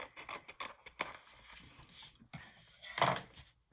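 Scissors trim 12x12 paper for a junk journal, a close, quiet string of crisp snips and paper rustles in quick irregular bursts.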